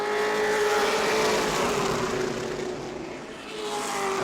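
Race cars circle the New Smyrna track in a Prelude to the Cup event, the number 407 Vale's Plumbing and Heating Ford among them, their engines a continuous loud drone that swells and fades slightly as the cars pass.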